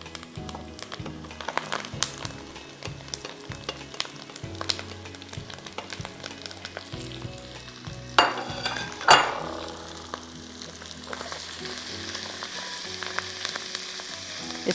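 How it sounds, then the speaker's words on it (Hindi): Half a kilogram of minced meat fries in a pan with onion and chili powder for a kima handi, sizzling steadily throughout, with a few louder clatters of stirring or utensils near the end and no talk. "इसको मैं अच्छी तरह 5 मिनट तक यहाँ भून रही हूँ"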